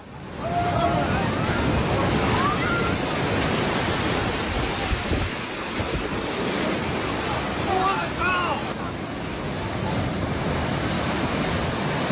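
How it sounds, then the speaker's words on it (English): Massive waves driven by a rising tide surge over a campsite, a loud continuous roar of churning water and wind noise with brief higher splashes, lasting about twelve seconds. "the rising tide generated massive waves that swept everything away"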